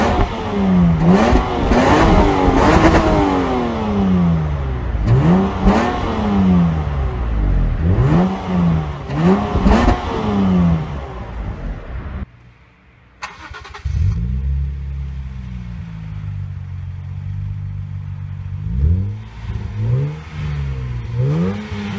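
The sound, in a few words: Lexus IS200/300 engine revving through aftermarket rear muffler exhaust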